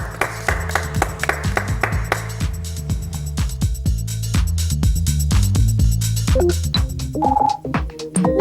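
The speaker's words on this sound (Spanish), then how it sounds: "Un aplauso para ustedes." Audience applause at a Spanish-language Alzheimer's care event: a crowd claps steadily and loudly, dense sharp hand claps continuing for several seconds before tapering near the end.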